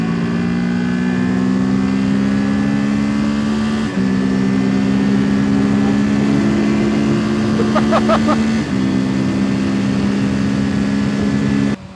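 A Kawasaki Ninja 650 motorcycle engine screams at full throttle on a road run, loud and steady with a rising pitch, broken by two quick gear changes and joined briefly by wind buffeting.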